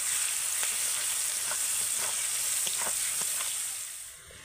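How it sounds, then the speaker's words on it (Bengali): Onions fry in mustard oil with a constant close sizzle, dotted with scrapes and pops as they are stirred, easing off slightly toward the end; no one talks. "পেঁয়াজটা মোটামুটি ভাজা হয়ে গেছে"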